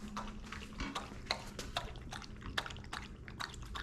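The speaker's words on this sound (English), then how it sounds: "Every time I film these videos, my dogs decide they want to drink water." A dog drinking water from a bowl, quick repeated wet laps and splashy drips in a fast irregular rhythm, close but fairly quiet against a soft background hum.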